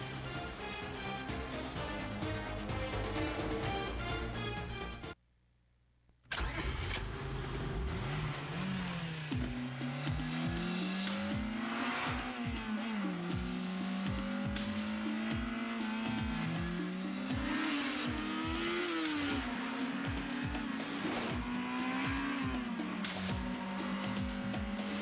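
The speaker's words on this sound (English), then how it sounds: "200 horsepower Acura RSX." A 200-horsepower Acura RSX revs hard in a loud, continuous run, engine pitch climbing and falling in repeated surges while tires squeal, broken by a brief second of silence near the start, with music-like layering throughout.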